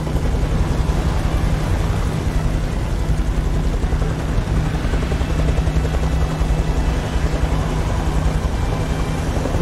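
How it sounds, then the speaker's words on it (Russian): Helicopter from the video game Beyond: Two Souls, a steady loud rotor and engine drone with heavy low rumble holding constant throughout, no voices over it. "Еще и вертолет, да ну!"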